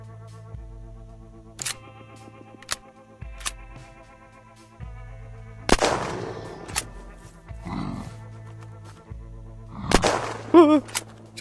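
Gunshots from the survival video game Unturned, a few sharp, isolated reports spaced across the clip with a brief louder burst near the end, over a steady low game hum.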